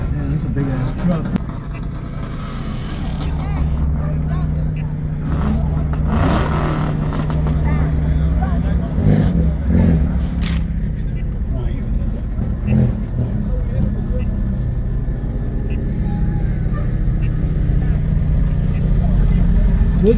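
A big truck rolls past at a busy New Jersey Motor Club cars-and-coffee meet, its steady low engine rumble continuous and fairly loud across the whole stretch, with crowd chatter and other vehicles mixed underneath.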